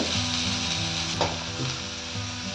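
Onion and cumin frying in a pan, a steady, close sizzle with light stirring and scraping sounds throughout and no speech.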